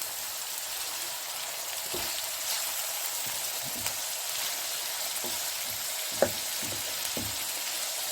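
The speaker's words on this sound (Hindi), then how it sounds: "7 से 8 मिनट इसमें आपने इसको फ्राई करना, भूनना है।" Chicken jalfrezi frying in a pan gives a steady, loud sizzle throughout, broken by occasional soft stirring taps and a single sharp clink.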